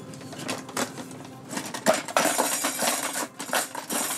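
A box is shaken by hand, its contents, guessed to be dishes, clattering and jingling in quick bursts of close, metallic and hard rattles.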